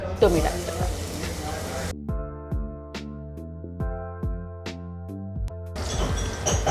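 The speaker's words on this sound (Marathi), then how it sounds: "तेल तापलं की आपण पाव चमचा हिंग टाकणार आहोत त्याच्यामध्ये आणि हा ठेचलेला लसूण आहे" Asafoetida and crushed garlic hit hot oil with a loud close sizzle, broken by a stretch of plucked melodic music before the frying crackle returns.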